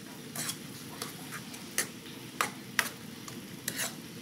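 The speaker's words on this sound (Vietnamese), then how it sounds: "Các bạn thấy mà nó nóng lên ha, và là nó sôi lên nữa là nó được chín" Vegan fish sauce mixture heating and coming to a boil in a pan: faint, scattered bubbling pops and ticks over a soft, quiet hiss, with the pops arriving irregularly.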